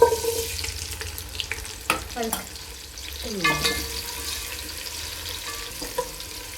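Steady sizzling of spices and onions frying in hot ghee, with scattered clinks and scrapes from a utensil stirring the pan.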